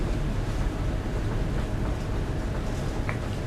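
A towboat's propellers churn up heavy wheel wash on the Upper Mississippi, a loud, continuous low rumble and rushing, turbulent water heard up close with wind noise, no voices.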